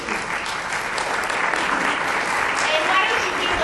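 An audience at a city board of education meeting applauds steadily for teacher of the year honorees, a dense, continuous clapping that stays loud and even throughout.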